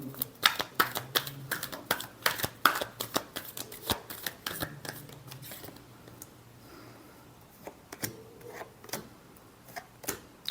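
Tarot cards are shuffled close by in rapid, crisp riffling flicks that come in quick bursts and fade into softer handling toward the end.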